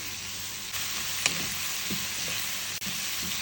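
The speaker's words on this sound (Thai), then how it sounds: "เราจะผัดแบบนี้ค่ะผัดเขาออกเป็นสีน้ำตาลก่อนจ้ะ" Sliced wilted red chili peppers stir-fry in a pan with a steady, close sizzle, broken by a few soft stirring scrapes and light taps.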